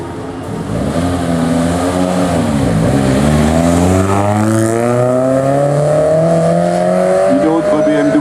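A 1988 BMW M3 E30 race car on a historic hill climb, its engine loud and close, revving and climbing steadily through the gears as it pulls away.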